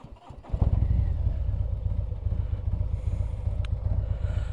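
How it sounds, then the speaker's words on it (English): Harley-Davidson motorcycle engine being started, a short crank and catch followed by a loud, steady, lumpy idle rumble close by, with no one talking over it. "start the bike up"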